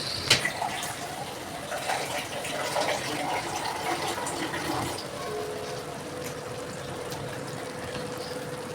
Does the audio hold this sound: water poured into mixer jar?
yes